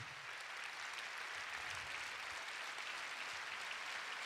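An audience at a company success-day event applauds the speaker's team in a steady, even wash of many clapping hands, faint and somewhat distant, with no speech.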